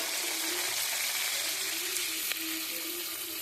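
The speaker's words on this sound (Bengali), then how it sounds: "আপনারা দেখুন পেঁয়াজগুলো ভাজতে দিয়েছি আমি" Onions frying in hot oil with cumin in a wok, giving a steady, close sizzle that runs unbroken throughout with one faint tap partway through.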